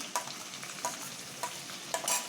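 Garlic paste sizzles in a hot pan while a spoon stirs it, scraping in four or five distinct strokes over a steady close frying hiss, with no voices.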